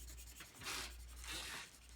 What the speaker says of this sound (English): I could color that in like this.